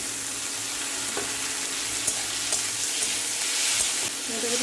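Vegetables fry with salt and turmeric in a pan, a constant close sizzle broken by a few light scrapes and stirring knocks.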